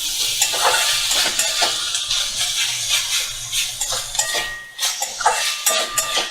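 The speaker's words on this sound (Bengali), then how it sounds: "এবার মিডিয়াম ফ্লেমে রেখে এটা ভালো করে চিনিটা এর সাথে মিশিয়ে নেব।" A spoon stirring sugar into a traditional West Midnapore kutri dish in a pan over a medium gas flame, with scraping and clinking against the pan and a soft sizzle underneath, continuous with brief pauses.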